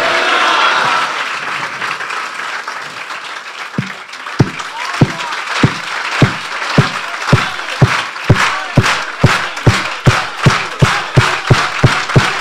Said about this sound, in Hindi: आइए उसके जलाल के लिए जोरदार तालियां मारेंगे।